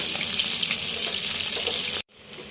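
Fish fries in a pan in a home kitchen, a loud, dense, close sizzle that runs steadily for about two seconds before cutting off abruptly, leaving faint room noise.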